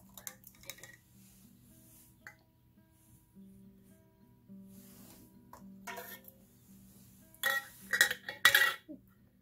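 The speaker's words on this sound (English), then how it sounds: "now we'll come through and position our lids" Metal canning lids clink and tap against glass jars packed with raw chicken, a scatter of light clicks across the first seconds, then a louder burst of metallic clatter near the end, with a low hum underneath.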